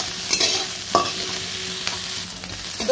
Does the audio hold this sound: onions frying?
yes